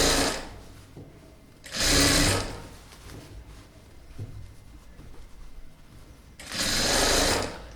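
A sewing machine stitches a blouse lining in three loud, close bursts of rapid whirring, with quieter handling and fabric shuffling in the pauses between runs.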